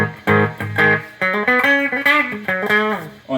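Clean electric guitar tone on the bridge pickup, played as a quick run of plucked single notes and short chords, close and bright with no distortion.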